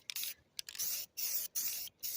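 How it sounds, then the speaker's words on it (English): Aerosol spray paint hissing in several short bursts as another coat goes onto a Geo Metro 1.0 oil pan during a gasket reseal, close and fairly loud with brief pauses between passes. "we're just going to go ahead and give it another coat here"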